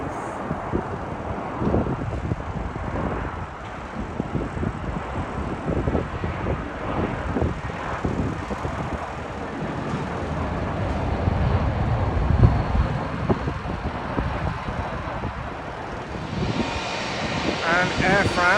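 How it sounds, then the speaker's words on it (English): A British Airways Airbus A320 arriving at Heathrow from Dusseldorf, its jet roar a rough, wind-buffeted rumble that holds steady throughout, with people talking over the engine noise. "That's British Airways A320, and that is coming in from Dusseldorf."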